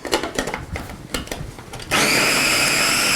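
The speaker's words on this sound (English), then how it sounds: "And really chop them like you're making breadcrumbs." A food processor or blender whirring to chop ingredients fine as breadcrumbs for meatloaf, first in short choppy bursts, then settling into a loud, steady high whine.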